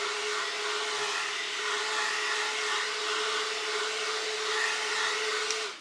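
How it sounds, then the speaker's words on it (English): Small electric fan blowing steadily to dry makeup, a continuous close whirring hum with a faint tonal drone that holds even throughout and cuts off at the end. "we are just going to use the fan just to speed up the process"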